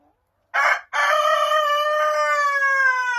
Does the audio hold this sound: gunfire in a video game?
no